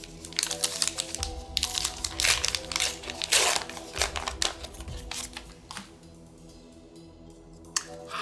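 A Star Wars Unlimited card pack wrapper is torn open and crinkled close up, with dense crackling foil rustles and tearing bursts that fade into softer card handling toward the end.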